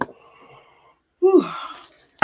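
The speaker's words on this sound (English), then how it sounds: "Oh, I keep yawning" Someone gives a long, breathy yawn that rises and then trails off, close to the microphone, after a brief quiet stretch.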